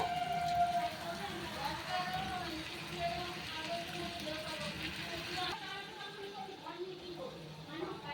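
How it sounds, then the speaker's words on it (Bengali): Boiled mutton trotter stock is poured through a strainer, giving a steady, continuous watery splashing and pattering close by over faint background tones. "সেটা কিন্তু একটা ছাঁকনির সাহায্যে এভাবে ছেঁকে দেবো"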